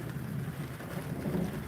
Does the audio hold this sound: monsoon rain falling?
yes